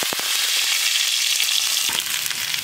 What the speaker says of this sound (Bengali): তেল গরম করেছি, তার মধ্যে একটু সর্ষে ফোড়ন দিয়ে দেবো